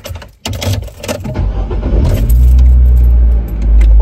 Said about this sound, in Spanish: Voy a prender el carro.